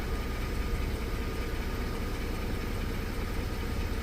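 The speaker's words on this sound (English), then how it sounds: "Car's been running now probably for like, I don't know, 10 minutes or so." A 2009 Mercedes-Benz R350 with a 3.5L engine idles steadily after running about ten minutes, a constant low rumble with no breaks and no voices.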